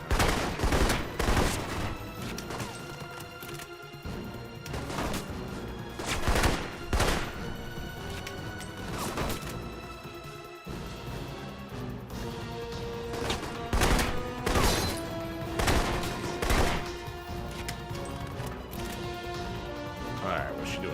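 Rapid bursts of gunfire from the video game Alpha Protocol, set aboard a yacht, with loud repeated shots and crashes filling the scene over a steady bed of game noise.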